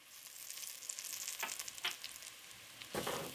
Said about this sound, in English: Give this a stir and have the spices bloom.